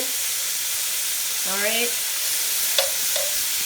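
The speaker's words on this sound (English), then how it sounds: "See how that's just searing up." Oxtail pieces searing in a little oil in a pot for a Jamaican curry, a continuous loud sizzling hiss with faint scraping, and a brief spoken word over it.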